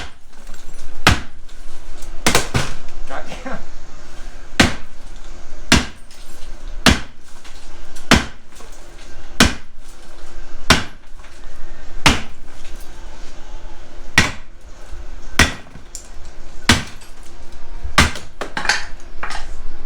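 Sharp metallic hammer blows strike a part on an old, worn Corvette to knock it loose, landing singly at an uneven pace, about one or two seconds apart, loud and close in a quiet garage.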